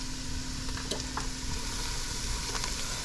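Bijol spice fries in a pan for yellow rice, giving a continuous close sizzle with faint stirring scrapes and small pops throughout.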